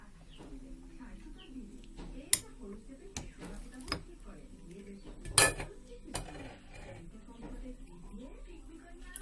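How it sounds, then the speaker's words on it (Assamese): Spoon clinks and scrapes in a bowl as homemade batter is poured over cooled Maggi noodles and mixed. A few sharp, scattered clinks stand out, with a voice and birds cooing faintly in the background. "এতিয়া মই বনাই থোৱা বেটাৰখিনি ঢালি মিক্স কৰি লম ভালদৰে"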